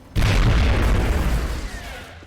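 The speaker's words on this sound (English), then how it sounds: "All of whom are about to get decimated by Throwing grenades." Grenade blast in the video game XCOM Long War, a single loud booming explosion that hits suddenly and rumbles away over about two seconds.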